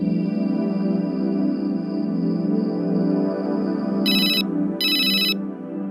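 A phone rings out loud and steady with a repeating electronic tone over a continuous low hum, then two short, bright bursts of a different ring join near the end.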